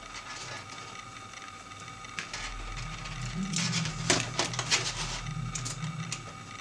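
Threaded 4mm studding being tightened on a DIY quadcopter retract mechanism, giving a run of small metallic clicks and scraping ratchet-like ticks that grow denser and louder midway, close up and alone over a low steady hum.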